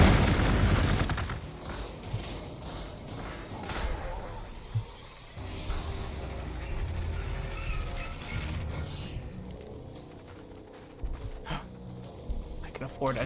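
Weapons firing at a barracks in the Warhammer 40K Gladius strategy game, a dense run of booms and blasts at the start thinning into scattered thuds and clanks, with talking over much of it.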